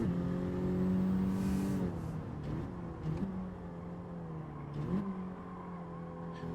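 Engine of a Honda Civic in the Gran Turismo 7 racing game, a steady high revving drone that holds, then drops and climbs again as the throttle is eased on and off through a corner, with brief gear-change dips.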